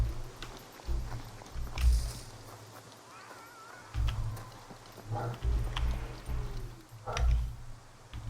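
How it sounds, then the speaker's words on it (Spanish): Donkey in the video game SCUM, heard as repeated low snorting brays and hoof-like thuds in several bursts, moderately close, with a voice briefly audible. "Suena un burro por aquí."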